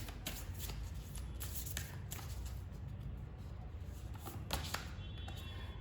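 Tarot cards shuffled by hand, a soft continuous riffling and flapping that runs steadily for several seconds at low volume, close to the listener, with no talk over it.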